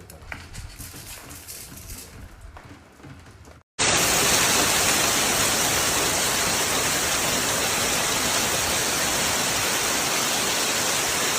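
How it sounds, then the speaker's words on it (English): Hail pounds rooftops, vehicles and the ground in Yunnan, China, starting abruptly after a quieter stretch and continuing as a loud, dense, unbroken roar of impacts. "hailstones striking rooftops, vehicles, and the ground with continuous loud impacts"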